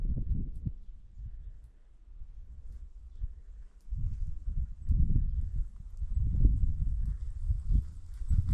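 Ponies walking on snow, their hooves giving a soft, steady, muffled clip-clop with a brief quieter lull before the footfalls pick up again.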